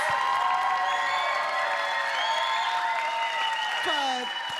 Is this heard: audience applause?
yes